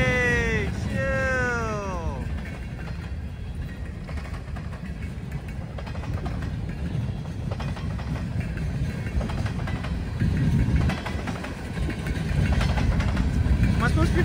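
A freight train rolls past in falling snow, a steady low rumble and clatter of wagons that grows louder toward the end, with a horn sounding near the start and someone talking over it.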